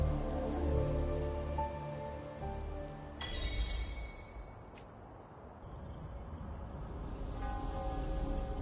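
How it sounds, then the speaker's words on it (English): Steady rain hisses across surfaces in the Wuthering Waves game world, a dense, even patter under faint game music with a couple of sharp chimes cutting through. "This rain, it's finally happening."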